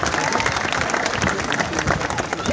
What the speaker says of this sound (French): Je crois qu'on peut les applaudir aussi.